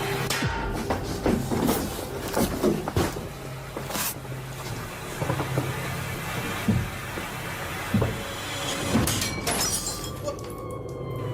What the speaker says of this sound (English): The mirror on the wardrobe burst outward, sending sharp shards of glass flying